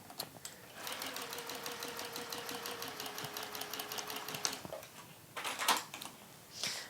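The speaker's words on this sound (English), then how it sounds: "so we've sewn all the way around with that one" A sewing machine stitches around a drawstring barre, running steadily for several seconds with a fast, even mechanical patter before stopping, followed by a few light handling sounds.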